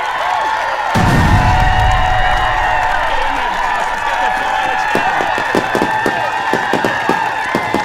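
A live crowd at a conversation event greets a guest with a loud burst of cheering and clapping, steady and close, followed by scattered claps and whoops over a continuous hum of noise.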